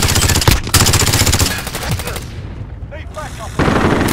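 A P90 submachine gun fires in a first-person shooter video game, loud, close full-auto bursts of rapid shots with brief pauses between volleys, followed by faint game sounds.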